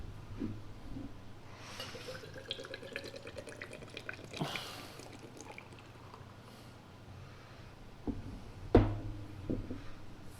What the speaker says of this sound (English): I'm just gonna pour myself a drinky poo here.